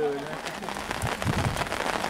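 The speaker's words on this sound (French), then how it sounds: "Pluie diluvienne." Torrential downpour drumming on surfaces at a rainy outdoor fishing gathering in Rolampont, a dense steady hiss with scattered near drops and low thumps, with a voice heard briefly.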